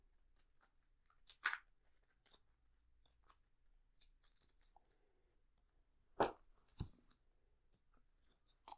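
Marvel Legendary game cards being shuffled by hand, a quiet series of sparse crisp clicks and short riffling snaps, close-up and faint against near silence.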